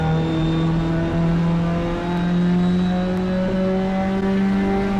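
A Ginetta GT5 race car's engine in a racing simulator game drones loud and steady, its pitch dipping and climbing again as it drops a gear for a corner.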